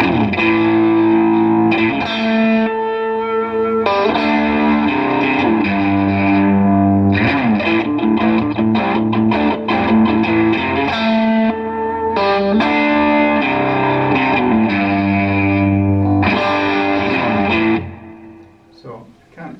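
A distorted electric guitar plays through an amp at volume 1, with chords ringing steadily for a while before the sound fades out at the end.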